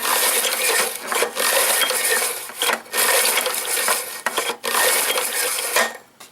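A Husqvarna rear-tine tiller engine with a compression tester attached is pulled over by its recoil starter, giving several loud rasping whirring pulls separated by brief pauses.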